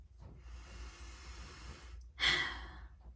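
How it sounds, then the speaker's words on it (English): A single deep breath is drawn in slowly and close to the mic, then let out in a sharp, breathy exhale like a sigh. "I needed that breath."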